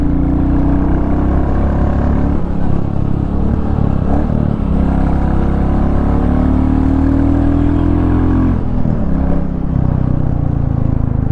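Royal Enfield Bullet 350 from 2023 being ridden through city traffic, its engine a continuous loud thumping drone with shifting pitch as it accelerates and eases off, no voices.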